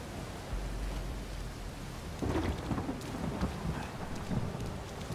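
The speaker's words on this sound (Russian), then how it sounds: "Смотрите, как дождь. Классно капает." Rainstorm in the video game Uncharted 4: steady hissing downpour with dense pattering drops and low rolling thunder swelling midway, no voices.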